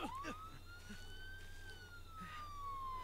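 A police siren in Friday the 13th: The Game rises and holds a single long wailing tone, fairly distant over a steady low background, with no talk.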